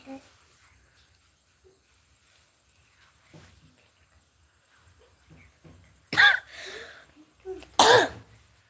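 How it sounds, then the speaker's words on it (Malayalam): Two loud, harsh coughs close by near the end, after a stretch of near silence with faint scattered noises. "ഭയങ്കര ചുമ"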